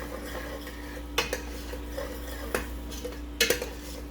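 Vegetables sautéing in butter in a pan, with a steady low sizzle under intermittent clinks and scrapes of a utensil stirring against the cookware.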